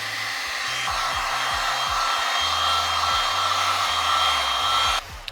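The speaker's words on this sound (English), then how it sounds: "If you do have a heat gun that's got some settings to it, I don't know, run it about midway." A heat gun on a middle setting blows hot air onto vinyl window tint, a steady loud airflow roar that runs almost without a break and drops off near the end.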